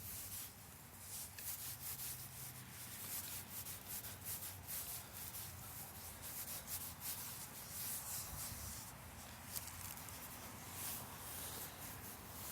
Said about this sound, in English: we want to be able to scar up and roughen up the outside of this root ball